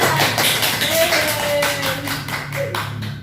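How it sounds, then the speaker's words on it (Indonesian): Classroom applause during a microteaching fiqh lesson at a madrasah: a steady patter of many hands clapping fills the clip, with a voice speaking over it. "Kasih tepuk"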